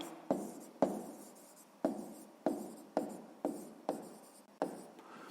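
Pen strokes on paper while working a sixth-grade maths exercise: about eight short, close scratching bursts, each fading quickly, in a steady stop-start rhythm with no voices.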